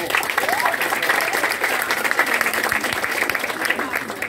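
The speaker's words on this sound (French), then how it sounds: "Maximum d'applaudissements aussi pour..." An audience of students and guests claps loudly and steadily at a school talent event, with a voice faintly audible beneath the applause.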